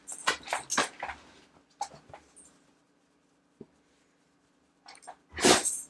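A dog sneezes with a few short, sharp bursts near the start and a louder one near the end, separated by quiet stretches with faint shuffling.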